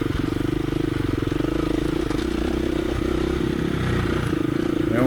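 A Honda CRF 450L dual sport motorcycle rides along smooth wooded single track, its engine thrumming in a steady low chugging beat close by, with faint clatter over the terrain and no talk.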